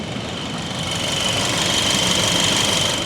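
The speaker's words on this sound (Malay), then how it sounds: "Proton X50 dia punya enjin memang bising ah" A 2025 Proton X50 Premium car engine idles steadily with a constant mechanical hum and a faint high whine, holding level throughout with no talking.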